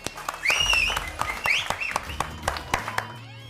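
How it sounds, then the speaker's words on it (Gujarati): A group clapping for a few seconds, with a burst of applause and scattered claps over a lively mix of voices and cheering. "એ વગાડો તાળી યાર."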